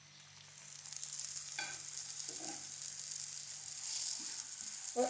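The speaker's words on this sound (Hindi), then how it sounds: "और अच्छी तरह से पराठे को तल लेंगे गोल्डन होने तक।" Layered lachha paratha frying in ghee on a hot pan, giving a steady, bright sizzle with a few soft crackles and scrapes, close up and with no voices.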